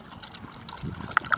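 Water is poured out for dogs, a brief, soft liquid splash and trickle with a couple of sharper drips near the end, fairly close and quiet.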